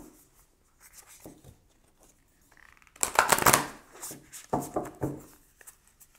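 Tarot cards being shuffled at close range, soft rubbing and sliding at first, then louder riffling bursts of papery friction in the second half.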